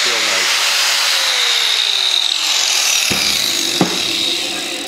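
Power saw cutting tile for a shower, a continuous loud high grinding whine as the blade runs through, with a couple of sharp clicks near the end and the motor winding down.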